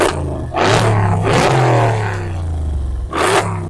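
A 2018 Mercedes-AMG GLE63s SUV engine revs hard in repeated bursts, loud and close, climbing to a roar, settling into a rumbling idle, then roaring again with no talking.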